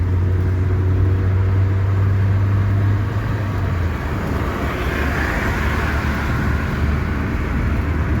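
A Geely Emgrand car after timing chain and cylinder head repair, running with a steady low engine rumble heard from inside as it drives, loud and continuous, with a faint whine rising midway.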